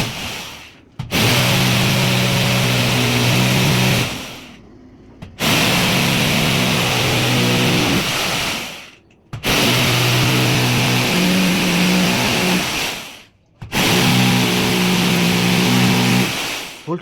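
A power drill bores holes into a room's wall for fitting a ceiling, running in four long, loud bursts of several seconds each, separated by short pauses, with a grinding whine that stays close and strong throughout.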